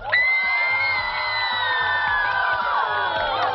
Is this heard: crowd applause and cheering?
yes